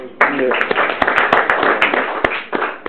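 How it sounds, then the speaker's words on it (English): Clapping in a council meeting after a presentation: a few sharp, spaced claps ring out over a dense bed of talk and murmur, close and fairly loud throughout. "I think that deserves a clap."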